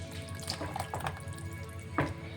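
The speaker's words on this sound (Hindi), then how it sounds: "देखिए इस मोमेंट में अब हम और 1 कप पानी ऐड करेंगे।" A cup of water poured into a simmering Punjabi pakora kadhi, heard as soft trickling and splashing with a brief louder splash near the end, close and steady.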